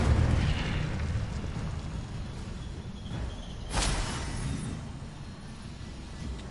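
Incendio fire spell cast in Hogwarts Legacy, a rushing, eruptive burst of flame that starts loud, eases off, then flares again in a sharp whoosh partway through, with no talking.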